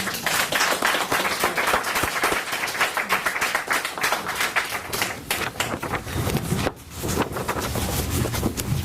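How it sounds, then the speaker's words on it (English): A conference audience breaks into a round of applause, dense and sustained clapping close to the microphone, with a short dip before it swells again near the end. "I think we should give a round of applause."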